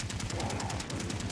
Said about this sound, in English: I hear shots up front